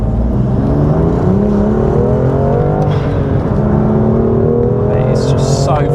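A remapped BMW M2 Competition with a manual six-speed gearbox and anti-lag, tuned past 520 bhp, accelerates hard on a road, its engine roaring loud and rising in pitch, with a brief crackle near the end.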